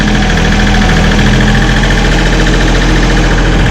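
A tractor engine idles loudly and steadily nearby, a constant low throbbing rumble with a faint mechanical chatter and no voices.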